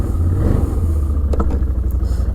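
Up close, a Can-Am Outlander Max 650 XT ATV's engine drones steadily in low range on a climb, with a faint clatter partway through.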